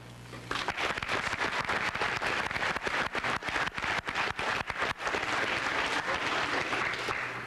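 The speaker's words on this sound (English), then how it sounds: "I think they deserve a round of applause." Banquet audience claps in a dense, steady round of applause that starts abruptly, holds at a consistent level for several seconds and continues to the end.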